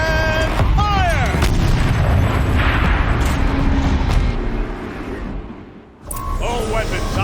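A battlefield turret fires in Horizon Zero Dawn: heavy booming blasts roll out across the stretch, loud and dense with rumble. Brief voiced game dialogue sits at the start and the end, with a short dip in the din before the final burst.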